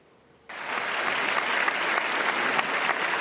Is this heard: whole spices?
no